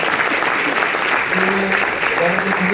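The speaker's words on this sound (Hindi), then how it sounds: "सब लोग के लिए और मैम के लिए एक बार जोरदार ताली होनी चाहिए" A room full of people claps steadily and loudly, a dense sustained round of applause.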